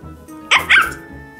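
Two sharp yappy barks from a Chi Chi Love toy dog, close and loud, in a quick pair at a home indoors, with a low hum of the room around them.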